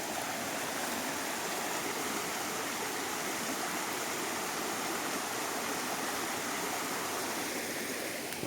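Water rushes steadily into a farm field from an overflowing river, a dense, even roar of flowing water heard up close without a break and with no voices.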